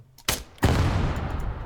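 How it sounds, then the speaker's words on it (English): Explosion in the ARMA 3 video game: a brief loud blast after a sharp earlier report, followed by a sustained rumbling roar that lingers to the end. "Pretty good explosion though."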